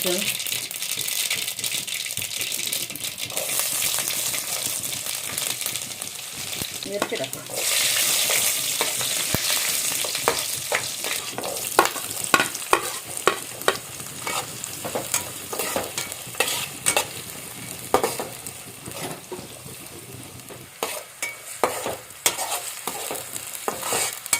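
Mustard seeds dropped into hot oil sizzle steadily and then crackle and pop in dense, sharp bursts for many seconds, close and fairly loud, with faint talk in the background.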